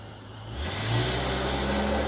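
A TTC truck on a Toronto street at night near Yonge and Eglinton rises from quiet into a close engine rumble that swells and holds as it passes.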